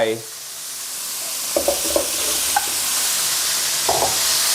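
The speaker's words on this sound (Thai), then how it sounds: "พอหมูเริ่มเป็นสีขาวแบบนี้ ใส่ฟักทองลงไป" Pumpkin and minced pork stir-fry with basil in a hot pan, giving a steady loud sizzle broken by a few short scraping stirs of the spatula.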